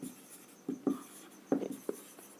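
Chalk or marker writing on a classroom board during a Hindi-medium English grammar lesson on direct and indirect speech, heard as a few short scratchy strokes at a steady distance with no talk.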